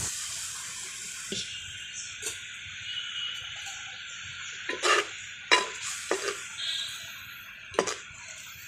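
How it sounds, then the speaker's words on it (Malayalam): Water poured into egg roast masala in a pan, a soft liquid splash followed by bursts of sizzling and stirring scrapes over a steady background hiss, no one speaking. "ലേശം വെള്ളം ചേർക്കാം"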